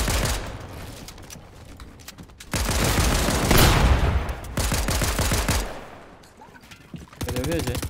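Rapid bursts of gunfire in a Fortnite match, loud volleys and fusillades coming in clusters with short gaps between them, set against game noise and chatter.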